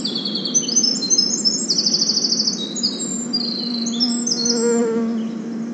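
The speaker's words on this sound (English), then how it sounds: "This is a winter wren." A winter wren sings in the Northwoods, pouring out a long, rapid, high-pitched cascade of trills and tinkling notes, clear and fairly close over a steady low buzzing insect drone.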